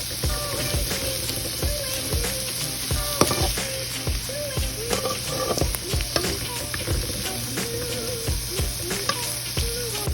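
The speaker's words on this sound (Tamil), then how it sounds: "இப்போ பாருங்கள், வெங்காயம் நல்லா வதங்கியாச்சு." Onions sauté in a pan with a little salt, a dense, continuous close sizzle and crackle that stays steady throughout, broken by frequent stirring scrapes. No one speaks.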